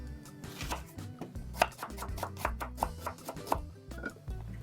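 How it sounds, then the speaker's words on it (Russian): A knife chops onion into thin strips on a cutting board, a series of sharp close taps in an uneven rhythm, with soft background music. "Лук режу перьями."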